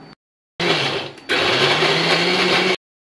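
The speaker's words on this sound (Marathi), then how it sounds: "मी आता याला मिक्सरला लावणार, न पाणी टाकता याला वाटून घेणार" A mixer grinder grinding soaked urad dal without water whirs loudly in two close bursts, a short run then a longer one, with silence on either side.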